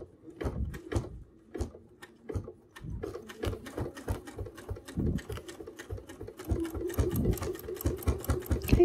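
A sewing machine stitching binding onto a quilt, with close, uneven bursts of rapid mechanical stitching that pick up toward the end, with short pauses between runs.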